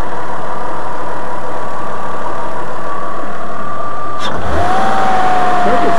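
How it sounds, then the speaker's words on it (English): A 2001 Ford Escape V6 engine idles steadily with a faint airy hiss, as if drawing in air from a leak at the intake manifold gaskets; a sharp disturbance near the end shifts the running tone. "Doesn't it sound like it's sucking a little bit of air somewhere?"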